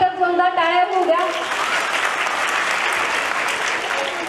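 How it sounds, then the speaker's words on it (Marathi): An audience at a Women's Day gathering breaks into loud, sustained applause right after a brief voice, the dense clapping filling the hall evenly to the end. "सर्वांनी एकदम जोरदार टाळ्या उद्या"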